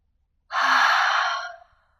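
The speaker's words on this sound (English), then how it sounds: "Take a nice deep inhale through your nose. Open mouth exhale to release." A deep open-mouth exhale during restorative yoga, one long breathy rush of air that swells quickly, holds for about a second and fades out, heard close and alone against silence.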